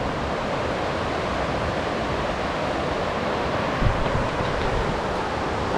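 Whispering Falls, a waterfall in Oregon partly hidden behind bushes, gives a steady, dense rush of falling water that stays even and unbroken from start to finish.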